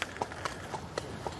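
Horse hooves clip-clopping in a quick, regular rhythm on a hard surface at a royal castle, a few sharp close knocks with faint background noise.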